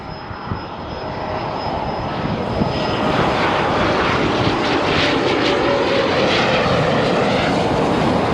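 A military jet near Laughlin Air Force Base in Texas roars overhead, a loud broadband engine rush that swells steadily and stays intense with no talk.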